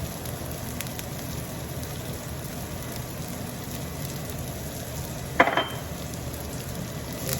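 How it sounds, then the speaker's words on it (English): Fresh green curry leaves frying in hot oil with onion that has turned a little brown, giving a steady soft sizzle with one brief sharp crackle near the end. "So I'm going to add the, this is the green curry leaves or fresh curry leaves"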